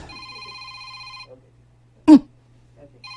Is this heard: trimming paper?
no